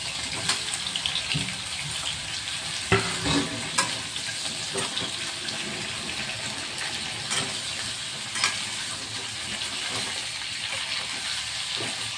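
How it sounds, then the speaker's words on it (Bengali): Boiled jackfruit pieces fry in a pan with a steady, close hiss of oil, a few clinks and stirring scrapes breaking through now and then, no voices. "কাঁঠালগুলিকে ভেজে নিচ্ছি।"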